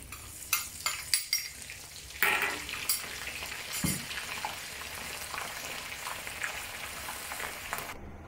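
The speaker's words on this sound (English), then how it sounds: "I would suggest deep frying the scallop, ham, and shrimp separately because they have a different water content." Pieces of Jinhua ham deep fry in hot oil in a wok for XO sauce, a quiet, steady sizzle broken by a few clinks and stirring knocks from a utensil against the pan.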